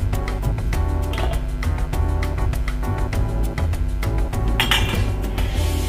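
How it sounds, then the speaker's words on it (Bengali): A cooking pot lid is lifted off a simmering pan of Bengali mochar ghonto made with fish head, giving a few close metallic clinks and clatters over steady, loud kitchen background noise. "ঢাকাটা আমি খুলে নেব"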